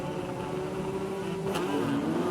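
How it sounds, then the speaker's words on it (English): Nissan touring cars launching off the start line of a 1992 race heat at Amaroo Park, a steady, fairly distant engine roar that builds gently as they accelerate away, with no talk over it. "off the line goes the Nissan, out and gone, the pair of them"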